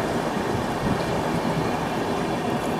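The Shipra Express rumbles along the tracks in a steady, dense roar heard from inside a carriage, with continuous low rolling noise and no voices.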